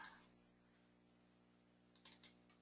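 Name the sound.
computer buttons being clicked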